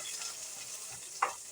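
Onions fry for chowmein in a pan with a constant soft sizzle close by, and a single sharp tap from a stirring utensil near the end.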